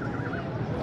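A mare neighs at an animal market, one brief wavering whinny heard fairly close amid a busy background murmur.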